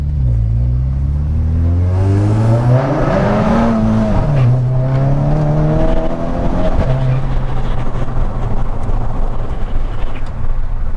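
A tuned front-wheel-drive VW Scirocco R, stage 2 with about 400 brake horsepower, accelerates hard in second gear. The loud engine note climbs steadily and then drops at a gear change before holding a steady drone, heard from inside the car.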